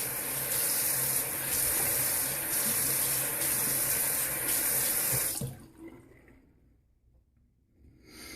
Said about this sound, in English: Now if you'll excuse me, I'm going to wet my face